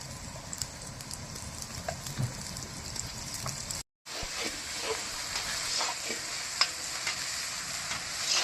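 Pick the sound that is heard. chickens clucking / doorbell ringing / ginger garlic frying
ginger garlic frying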